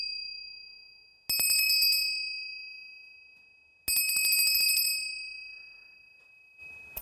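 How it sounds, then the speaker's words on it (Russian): A bell is struck twice, a few seconds apart, each clear metallic ring fading slowly, followed by a faint third touch at the end. "Этот колокол мне подарил Иван Данилов."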